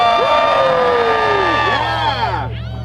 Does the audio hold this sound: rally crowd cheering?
yes